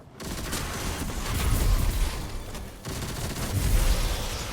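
Weapon gunfire rattles in dense rapid bursts during a Destiny 2 solo activity, loud and sustained with heavy low booms, briefly dropping out before resuming.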